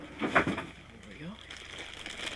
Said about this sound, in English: Let's put it out of the plastic bag here.